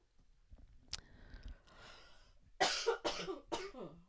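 A burst of several harsh coughs in quick succession near the microphone, preceded by quieter clicks and breathing.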